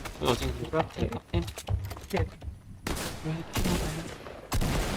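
Bursts of rapid gunfire in an online shooter game, rattling volleys that come and go in quick clusters, loud and close, with excited voices talking over them.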